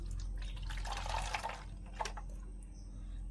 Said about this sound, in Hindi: एई के एथिरे मु पानी पुरी नउछि।